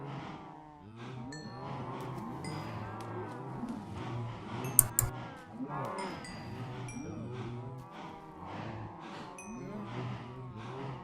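Cows in the Minecraft video game moo repeatedly, several overlapping low drawn-out calls forming a steady herd chorus, with a few brief game clicks and tones mixed in and no talking.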